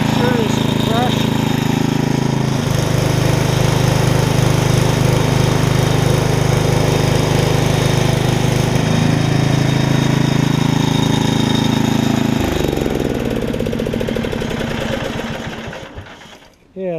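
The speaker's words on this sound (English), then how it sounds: "pretty good pressure washer. Let's see if it starts back up." A Mi-T-M pressure washer's small gas engine runs loud and close with a rough, rapid chugging drone, its pitch shifting a few times before winding down near the end.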